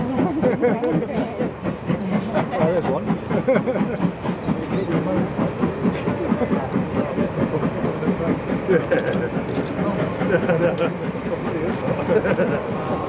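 Steady rumbling and rhythmic clacking of a moving train, continuous and fairly loud, with people talking over it.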